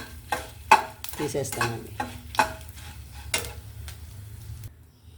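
Spice tempering with asafoetida frying in a pan for a tomato chutney, heard as a dry crackling sizzle broken by sharp, uneven spoon scrapes and ticks that fade to quiet at the end; no one speaks.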